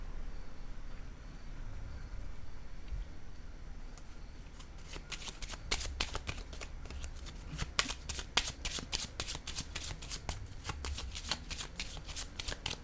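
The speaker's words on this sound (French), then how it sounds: "je vais déposer, comme je le mentionnais, une carte de ce côté" Playing cards are handled and shuffled close up: a quiet stretch, then a rapid run of crisp flicking and snapping card sounds with no talk.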